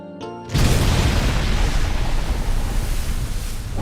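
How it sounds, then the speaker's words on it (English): A cartoon explosion sound effect from SpongeBob SquarePants bursts after a brief lead-in, then a loud, sustained rumbling roar that fills the rest of the moment. "So, after the song, this explosion is played."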